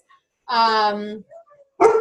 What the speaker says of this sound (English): My dog's going crazy because everyone's getting home.